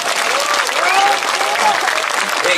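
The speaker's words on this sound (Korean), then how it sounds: "그 의미에서 이 박수는 여러분들 스스로에게 치는 박수다" An audience at a lecture in Bonghae village claps loudly and continuously, a dense roar of hands with faint voices and cheers woven through it.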